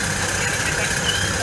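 A steady mid-pitched engine drone hums continuously from an approaching boat at Madinat Jumeirah, Dubai, sounding like a motorboat running at a distance.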